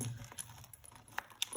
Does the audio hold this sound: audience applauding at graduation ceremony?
no